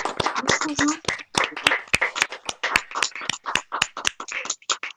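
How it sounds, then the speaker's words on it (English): Crowd at an album launch party applauding each other, a run of crisp, fairly close claps from a small group, with talk mixed in. "Let's have a round of applause for each other."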